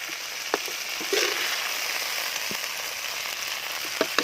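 Hot oil sizzles steadily and close in a pan as mole crickets and insects deep-fry outdoors, with sharp pops and crackles breaking through every second or so.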